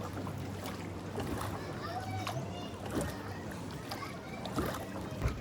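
Outdoors on a river in Ninh Binh, Vietnam, paddles dip and splash softly as a rowboat glides along, with faint voices and a low steady background hum throughout.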